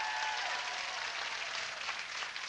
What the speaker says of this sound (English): Can we have a round of applause for Duop